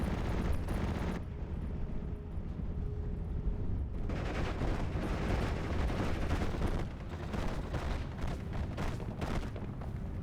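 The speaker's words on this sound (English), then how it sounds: "We've got the autocannons engaging." Rapid, dense gunfire and heavy booms in a WWII-themed real-time strategy battle with autocannons engaging, a continuous loud barrage of overlapping shots and blasts throughout.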